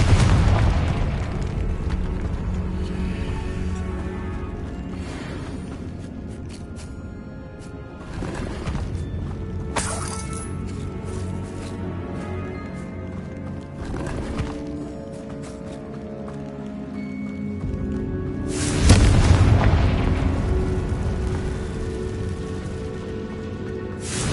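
Confringo blasting spell exploding in the Hogwarts Legacy video game, a heavy booming blast with rumbling debris among game music and effects, with a second loud burst near the end.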